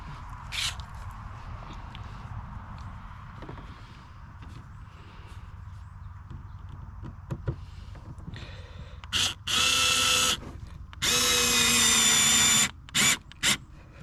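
Near, loud bursts of a power drill driving screws while installing a Minn Kota power system on an Old Town 106 kayak, several short whirs late in the clip after quieter handling clicks.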